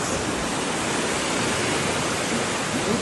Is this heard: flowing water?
yes